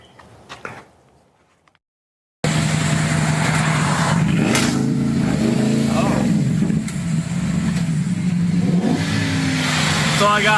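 A street-racing car's engine revs hard in a rev-off, after a brief quiet stretch of faint noise, then a loud, close, sustained roar with rising and falling pitch sweeps that holds steady to the end.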